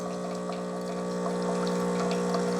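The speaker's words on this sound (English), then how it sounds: "you're going to let the pump run, and you may get a bunch of air and a bunch of steam" A Mr. Coffee Cafe Barista ECMP1000 espresso machine pump runs steadily, with a loud continuous hum and water flowing through the portafilter, alone and unbroken throughout.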